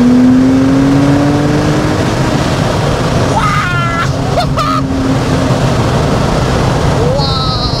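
A Porsche with over 600 horsepower accelerates hard, its engine note rising through the gears in a loud, continuous roar that carries over the whole stretch, with people talking inside the car.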